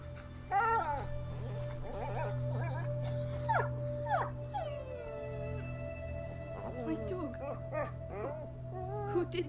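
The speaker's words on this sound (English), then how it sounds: "Oh my god, dog." A dog in A Plague Tale: Innocence whimpers and lets out short howling cries over a steady low game drone, the wavering calls coming in bursts with pauses between them.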